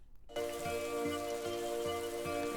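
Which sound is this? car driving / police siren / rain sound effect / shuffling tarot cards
rain sound effect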